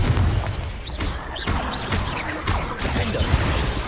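A Confringo blast spell cast in Hogwarts Legacy, booming explosive bursts with whooshes and crashes repeating roughly every half second over a dense, loud background of game effects.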